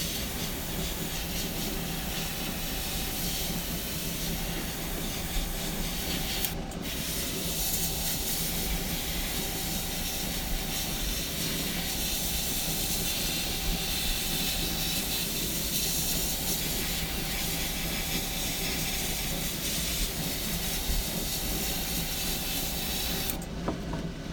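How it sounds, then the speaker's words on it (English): An airbrush sprays paint onto a carved wolf head, giving a steady, close hiss that runs almost unbroken for the whole stretch, with one brief pause partway through. "When you carve, best thing to do is airbrush it."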